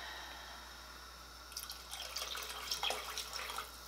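Vinegar poured into a pot of homegrown collard greens being readied for pressure canning, a soft, faint trickle and splash starting partway through after a quiet lead-in.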